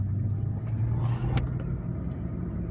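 A 2006 Acura TL with a six-speed manual gearbox pulls along in second gear, its engine a steady, close, low rumble with no speech over it.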